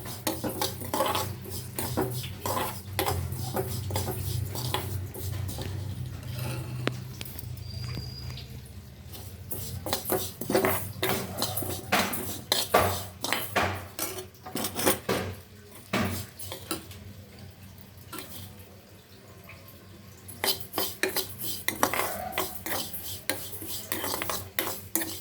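Sesame seeds dry-roasting in a pan while a metal spoon stirs and scrapes them. Busy clinking and rasping strokes, with faint crackles underneath, run steadily for the whole stretch with no talking.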